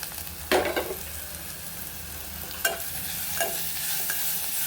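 Fried onions and a freshly added spice paste hiss softly in a pan, with a few sharp scrapes and clatters of a stirring spoon standing out over the steady low sizzle.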